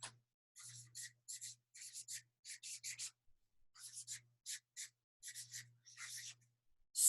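Pen drawing a line on paper, a series of short scratchy strokes in quick bursts with brief pauses between them, close and fairly quiet.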